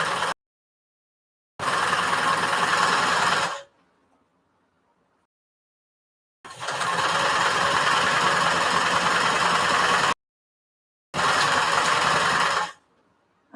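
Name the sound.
sewing machine stitching fabric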